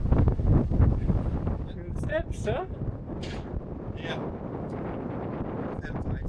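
Strong wind in the Australian Pilliga bush buffets the microphone in heavy gusts, roaring and rumbling throughout while people talk briefly nearby.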